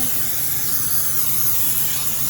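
A steady aerosol of baking spray hisses close up into a baking pan for a couple of seconds, one continuous burst with no voices.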